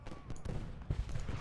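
Rapid bursts of Civil War cannon canister shots in the video game Ultimate General: Gettysburg, a dense rumbling volley with several sharp loud blasts.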